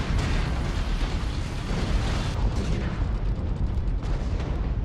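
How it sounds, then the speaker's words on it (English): Mech weapons fire and explosions from the video game MechWarrior Online: dense, continuous booms and blasts overlap with rumbling bursts, loud and close, with no pauses between impacts. "I do think that the quality of weapon sounds is a bit all over the place."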